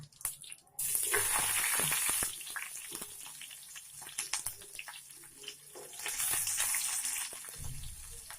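Chopped onions frying in a hot tempering of mustard seeds, cumin and curry leaves, a loud steady sizzle and crackle with scraping stirs and brief quieter stretches, close by.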